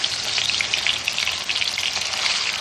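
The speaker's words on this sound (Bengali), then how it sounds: "ম্যারিনেট করা মাংসটা ঝেড়ে ঝেড়ে তেলের মধ্যে মাংসগুলো দেবো।" Marinated chicken frying in hot mustard oil, a loud dense continuous sizzle and crackle with no pauses.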